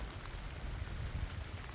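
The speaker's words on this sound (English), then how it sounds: "It's freezing rain." Freezing rain falls steadily on ice-coated trees outdoors, a soft continuous patter and hiss of drops that stays even and moderately quiet throughout, with no voices.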